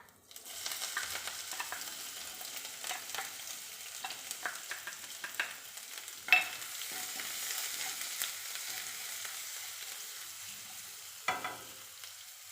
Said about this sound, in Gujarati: રાઈ તતડી જાય એટલે એમાં એડ કરીશું જીરું, હિંગ, હળદર, આદુ, મરચાં, લસણ અને લીમડો.